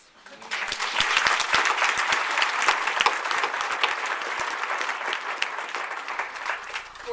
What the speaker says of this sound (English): I think Jane and Russ deserve a big round of applause.